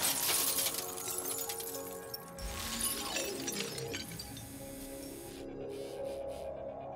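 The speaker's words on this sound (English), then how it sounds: "For this test, the robot has been fitted with a small ramrod designed to break through glass." A bomb-disposal robot's small ramrod smashes through a car's glass window, giving a loud continuous crash and crunch of shattering glass, followed by scattered tinkling fragments that fade into quieter clinks.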